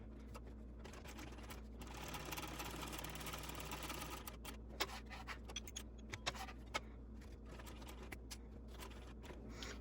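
A sewing machine stitches a fabric shoulder bag, a quiet rapid whirring run followed by a few sharp clicks and taps of the mechanism.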